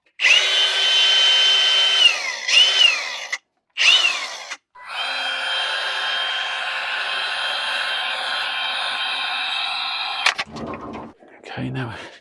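A power drill bores holes in short bursts: whining runs starting and stopping, then one long steady spin lasting several seconds, close up and loud, followed by a few clunks as it stops.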